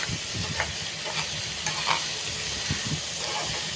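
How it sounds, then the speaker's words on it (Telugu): Watermelon rind frying in a pan while being stirred, a steady close sizzle broken by scraping and clinks from the stirring, with no voices. "బాగా వేగిన తర్వాత కారం వేస్తాను."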